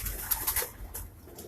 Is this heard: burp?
no